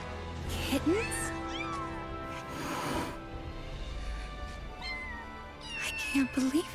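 Several high, thin kitten meows from Final Fantasy 7: Rebirth come in short bursts, a few at the start and more near the end, over a quiet background.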